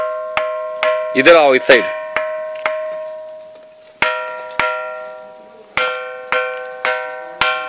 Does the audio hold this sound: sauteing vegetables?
no